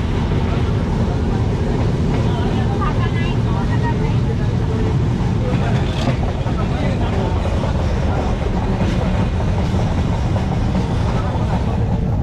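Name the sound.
Ruposhi Bangla Express train running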